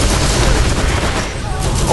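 Turret gunfire in the video game Borderlands, a steady dense barrage of shots running through the whole stretch under game noise, with a voice talking alongside.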